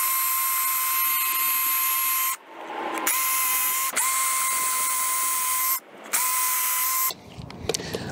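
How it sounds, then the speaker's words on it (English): A power drill bores pilot holes in wood for a DIY bike stand, its high whine running in long steady bursts that stop briefly between holes before trailing off at the end. "I'm just gonna drill two holes just like that."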